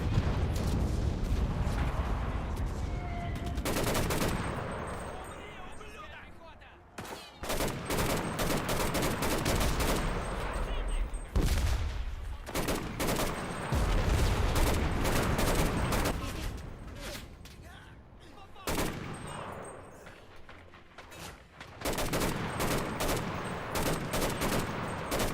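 Gunfire from a World War II shooter game set in the Berlin battle, with sniper shots among many sharp cracks and bursts that repeat densely across the scene, some near and loud, others in quick volleys.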